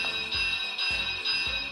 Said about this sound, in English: Looks like he's got a bell.